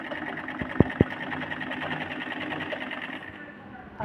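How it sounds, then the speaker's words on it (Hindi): Electric sewing machine stitching the middle section of a folded ladies' pyjama pocket, a steady close whirring run with a couple of sharp clicks near the start, while someone speaks over it. "सीधी साइड में मोड़ के हम बीच बीच का हिस्सा सिलाई करेंगे।"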